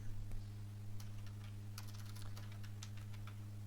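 Typing on a computer keyboard while text is entered in Adobe Illustrator: a loose run of light key clicks, sparse at first and then denser, heard fairly close over a steady low electrical hum.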